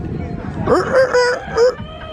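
A man vocally imitates a rooster's crow in a short burst of rising and falling cries. There is a faint background murmur.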